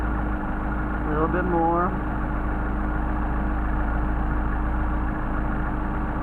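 A Mercedes 190SL engine idles on Solex carburetors while the idle mixture screw is adjusted, a steady low rumble running throughout with someone briefly speaking over it.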